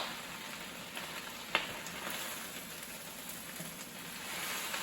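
Garden greens sizzle and fry in sesame oil with garlic and ginger in a pan, a steady close crackling hiss with a single brief clink partway through and no talk.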